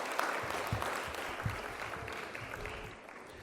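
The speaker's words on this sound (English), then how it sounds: "Let's give another round of applause for our sensational student athletes, coaches, as well as athletic directors" An audience at a lecture series event applauds student athletes and coaches, a full round of clapping with a few louder claps standing out, which fades slightly toward the end.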